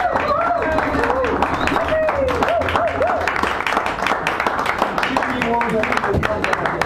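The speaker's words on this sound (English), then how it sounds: "Give her a round of applause." An audience at a poetry reading in a San Francisco cafe claps in a sustained round of applause, with voices talking over the clapping throughout.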